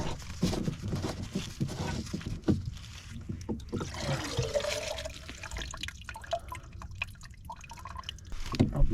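Water dripping and trickling through a DuPont sediment water filter at an off-grid cabin, a close, irregular patter of drops and small splashes with gurgling, running steadily without talk.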